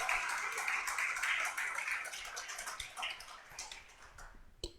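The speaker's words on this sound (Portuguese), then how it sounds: "Dê um aplauso e um grito de vitória" A church congregation breaks into applause and cheering, a busy clatter of clapping that thins out and fades over a few seconds, ending with a few scattered claps.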